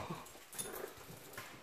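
A dog inside an old hall gives quiet whimpers and a low growl, faint and somewhat distant against a soft room hiss, with no talking.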